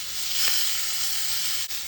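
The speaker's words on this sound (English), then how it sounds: "You want to hear that sizzle." Loud, continuous sizzling of chicken searing skin side down in a hot skillet, a bright steady hiss with a couple of brief dips, no talking.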